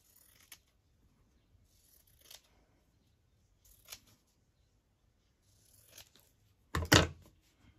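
Scissors cutting paper while decorating a journal page, a few sparse short snips spaced a second or more apart, ending in a louder, longer cut, close and quiet otherwise.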